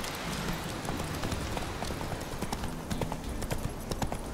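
Horse hooves gallop in a rapid, steady clip-clop rhythm in The Witcher 3 video game, running through a forest over a continuous outdoor ambience, moderately loud, with no speech.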